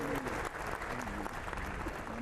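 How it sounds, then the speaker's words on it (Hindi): Audience applause at an airport terminal inauguration ceremony, a dense, continuous patter of clapping from a crowd lasting a couple of seconds with a faint voice mixed in. "बहुत सारी तालियों के साथ हम इसमें जुड़ेंगे।"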